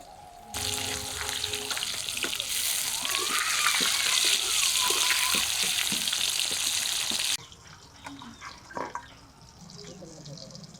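Pieces of katla fish frying in a wok give a bright, steady sizzle with small spattering pops, loud for several seconds and then dropping abruptly to quiet kitchen sounds with light knocks.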